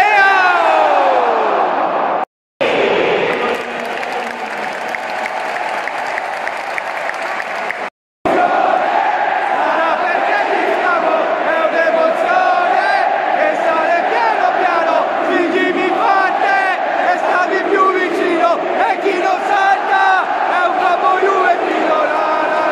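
AC Milan supporters chanting in the Curva Sud at San Siro, a dense roar of massed voices singing together, loud and sustained with two brief cuts.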